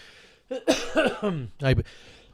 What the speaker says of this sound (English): Man, you got a bad cough, dude.